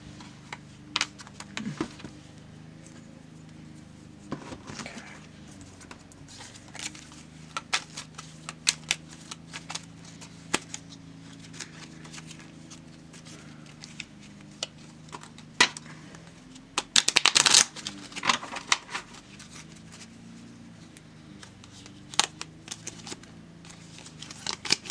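Tarot cards are shuffled in short, irregular bursts of soft riffling and tapping, close and fairly quiet against a low background hum, with one longer shuffle midway.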